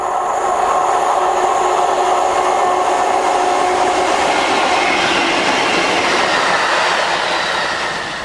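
A steel freight train hauled by two Riviera Blue Class 47 diesel locomotives rolls past, a loud, sustained roar of engines and wagons with rail clatter and faint wheel squeal, fading slightly at the end.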